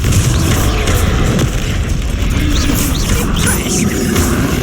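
A Confringo blasting spell from the wizarding game Hogwarts Legacy erupts in a loud, sustained roar of booming explosion noise. The rumbling blast fills the whole moment with no pause.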